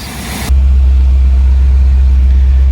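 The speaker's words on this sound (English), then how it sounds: "But the car actually sounds really good. It's idling nice. Sounds like it's running on all 8 cylinders." A 1964 Ford Thunderbird V8 settles into a smooth, loud idle close up, running evenly after a brief quieter moment at the start.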